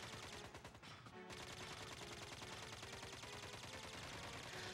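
Gunfire in Dark Cloud 2, aimed at a statue: a dense, steady stream of rapid shots running almost unbroken for several seconds, loud and close, with music or effects layered underneath.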